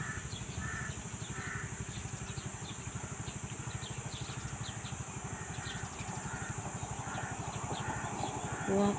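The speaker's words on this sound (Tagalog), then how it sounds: "Nakakatakot yung tunog ng mga ibon," Large birds caw loudly and repeatedly in a steady, rhythmic chorus over a constant low mechanical drone, with faint higher chirps scattered throughout.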